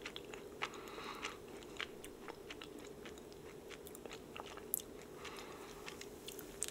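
Close crisp bites and soft chewing of a salted caramel Ladurée macaron from Paris, several crunches in an irregular rhythm with no talking.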